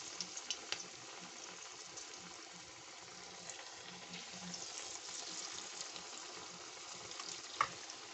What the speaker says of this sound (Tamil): இப்போ இந்த மாதிரி ஒன்று ஒன்றா எண்ணெயில் போட்டு எடுத்துக்கலாம்.